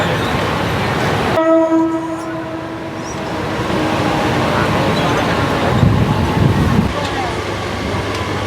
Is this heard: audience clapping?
no